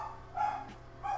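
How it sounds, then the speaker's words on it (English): Dogs barking in the background indoors, a couple of short muffled barks spaced about half a second apart, moderately faint. "I apologize for the dogs barking in the background"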